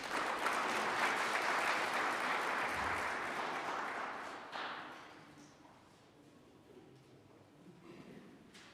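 An audience at a petroleum local content policy consultation applauds after a presentation. The clapping is dense and moderately loud for about four seconds, then thins out and fades to scattered claps and room noise.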